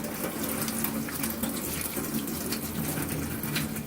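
Running tap water pours steadily into a sink while a toothbrush scrubs plastic Tamiya Williams Honda FW11 model car parts, lifting off old paint and decals; a constant close, even wash of water with faint brushing texture throughout.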